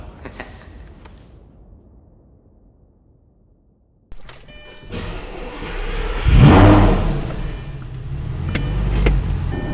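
2006 Lamborghini Gallardo: after a quiet stretch and a mechanical clunk, the engine barks into a loud, close rev that swells sharply, then settles into a strong, uneven rumble.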